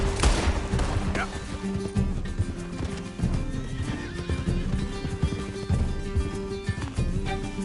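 A horse galloping in a PS4 video game, rhythmic hoofbeats drumming steadily with neighs and occasional gunfire over a busy game soundscape.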